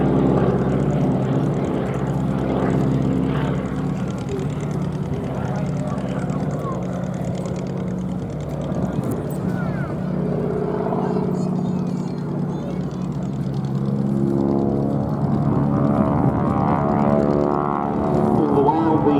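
Propeller aircraft engine droning steadily through an airshow display at Duxford, a continuous mid-level hum with shifting tones under a commentator's voice.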